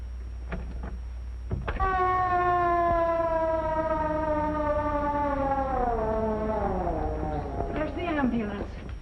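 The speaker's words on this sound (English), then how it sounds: "There's the ambulance." An ambulance siren wails with a long descending tone, rising again near the end, fairly close and loud.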